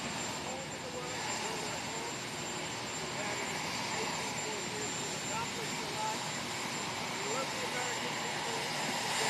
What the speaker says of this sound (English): the presidents like to talk while the helicopters are going